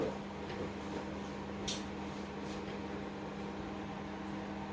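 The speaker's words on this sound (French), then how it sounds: "on le passe au micro-ondes, donc nous on va mettre 30 secondes" A microwave oven runs while softening butter, producing a faint, steady low hum with a constant drone and a few soft clicks over its short run.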